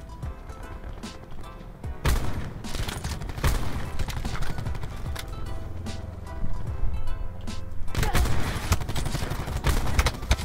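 Gunfire in a first-person shooter video game crackles in dense, repeated bursts and volleys, with loud sharp shots spread throughout the stretch.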